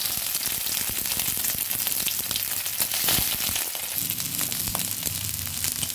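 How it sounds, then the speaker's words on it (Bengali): Boiled, squeezed soybeans frying in hot oil in a wok over lowered heat, producing a loud, continuous crackling sizzle with occasional stirring scrapes. "কড়াইতে তেল গরম হয়েছে। এবার আঁচটা কিছু কমিয়ে আমি এই বয়েল করে রাখা সয়াবিনগুলো ভালো করে ধুয়ে চিপে এবার দিয়ে দিচ্ছি।"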